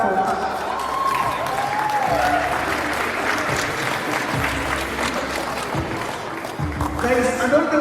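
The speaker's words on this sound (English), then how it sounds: "Guys, let's clap for her" Audience applause fills a conference hall at a Bitcoin unconference in Kenya, steady and fairly loud throughout, with crowd noise and voices mixed in.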